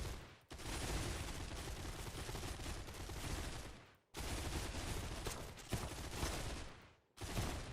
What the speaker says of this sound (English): And then you can see the hipfire in action.